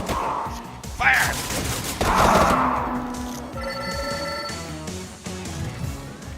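Triple gun firing in the video game Vampire Crawlers: a loud burst of game gunfire effects with sharp impacts and bright ringing tones, layered over busy music.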